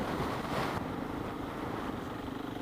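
Strong buffeting wind roar on a KTM 690 motorcycle ride, a dense steady rush filling the whole clip with a low engine drone underneath and no voices.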